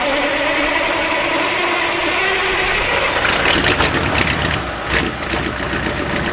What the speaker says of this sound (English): the sound of 1980 V8 American USA horsepower